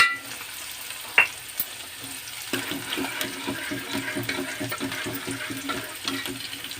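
Bottle gourd curry with chili powder simmering in a pot gives a soft, steady bubbling and sizzle, with a sharp clink early on and faint stirring taps, heard close with no voices.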